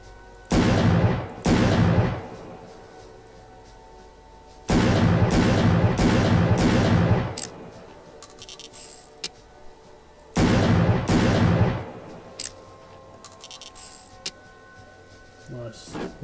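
A hand cannon fires in the video game Jinni with loud, booming shots: two close together, then a run of four, then two more. Fainter clicks and game sounds fill the gaps.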